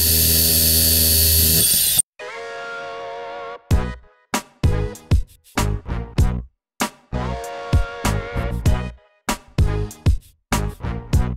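A power tool cuts through the seat bar inside a Ram ProMaster van, starting with a loud sustained whine and then breaking into a series of short, uneven high-pitched bursts with brief pauses between.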